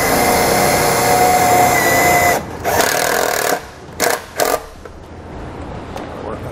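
A power driver with a 1/4-inch socket drives a self-tapping screw into the metal body of a 2018 Chevrolet, a loud sustained whine that cuts off, followed by a few short bursts and then a quieter hum.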